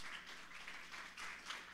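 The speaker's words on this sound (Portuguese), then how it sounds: "você aplaude o nome do Senhor" Church congregation applauding at a Quadrangular service, a steady wash of clapping with swelling bursts, fairly faint and distant throughout.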